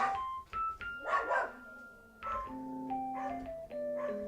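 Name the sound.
dogs barking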